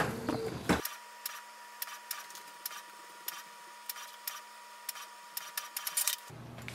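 A wireless Canon printer runs a print job sent from a Chromebook, giving a steady low mechanical hum with a series of sharp clicks and ticks from the paper feed, all close by and with no talk.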